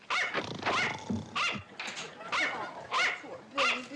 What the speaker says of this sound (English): I wonder why he was barking.